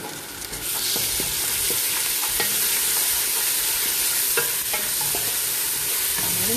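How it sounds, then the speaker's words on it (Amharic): Onion, garlic and ginger fry steadily in a pan for chicken salona with vegetables, a continuous close sizzle with occasional utensil clicks and scrapes as the mixture is stirred. "አሁን አብረን እንደዚህ ትንሽ እንጠብሰዋለን የተወሰነ ሰዓት።"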